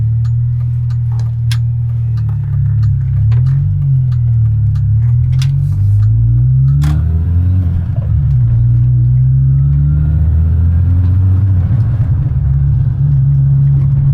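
A Mini Cooper S R53 engine hums and rumbles steadily while driving on a road, with faint ticks and small clicks over the continuous low drone.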